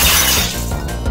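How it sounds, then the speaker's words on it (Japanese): Glass shatters loudly in a burst of breaking that trails off into scattered tinkling fragments over roughly a second, heard alone with no talking. "ああ、またガラスが割れた。"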